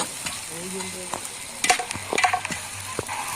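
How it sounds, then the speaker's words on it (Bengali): Onions fry with ginger-garlic paste in a pan for a magur fish curry, a moderate sizzle broken by repeated spatula scrapes and clinks against the metal, close by, with no voices. "এখানে পেঁয়াজ দিয়ে পেঁয়াজটাকে ভাজা হচ্ছে আর আদা রসুনের পেস্টটা দিয়ে দিয়ে মশলাটাকে খুব ভালো করে কিন্তু কষে নেওয়া হবে।"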